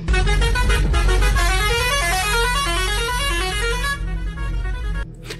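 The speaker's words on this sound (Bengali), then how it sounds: "সেটা ভাঙল একটা বাসের হর্নের প্রচণ্ড শব্দে" A bus horn honking loudly and continuously, a long, close blaring tone with a rising and falling pitch over engine rumble, cutting off near the end.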